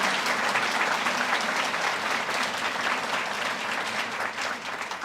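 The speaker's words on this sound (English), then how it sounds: "How about a round of applause for all of the students?" Audience members at an honors convocation applaud the students with a dense, steady wash of clapping that holds loud for about five seconds and eases slightly at the end.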